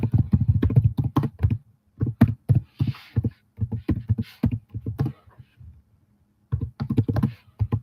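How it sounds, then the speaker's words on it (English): Fast bursts of typing on a computer keyboard, close and crisp, with clustered key clicks broken by short pauses. "I'm typing it up now."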